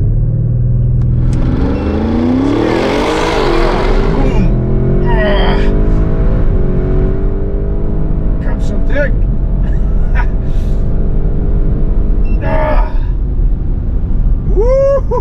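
An Audi RS6 accelerating flat out from 0 to 200 km/h, its engine note climbing loud and close through successive gear changes, heard from inside the car with a steady roar throughout.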